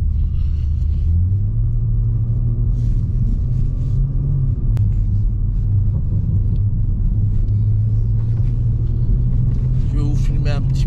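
A BMW M140i with a Remus exhaust gives a deep, loud, continuous rumble, with its pitch rising and dipping gently as it is revved, close by, with voices faintly underneath.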